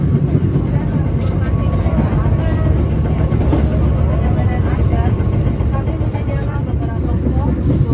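The Airlangga passenger train pulling into Bekasi station, a loud, heavy diesel engine rumble dominating the platform throughout, with some talk in the background.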